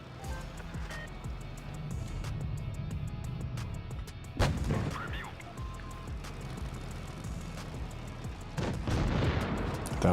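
Tank cannon shots in the mobile tank battle game World of Tanks Blitz, heard as a couple of sharp booming blasts over a steady engine rumble, with smaller impacts scattered through a busy battle mix.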